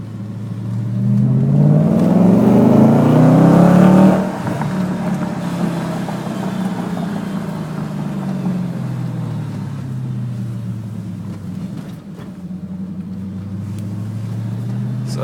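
BMW Alpina B7S4 engine revs outside near a parking garage, a loud rising roar that peaks and drops back to a steady low idle rumble, close by.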